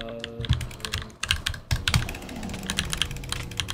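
Rapid mouse clicks during a Minecraft Bedwars match, a busy irregular clatter of close clicks with game sounds mixed underneath.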